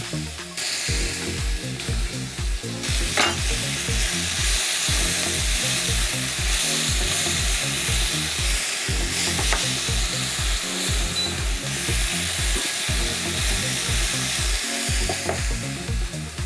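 Garlic, ginger and chilies stir-fried in a hot pan for a beef and broccoli stir fry, a loud continuous sizzle with rhythmic scraping and tossing strokes throughout.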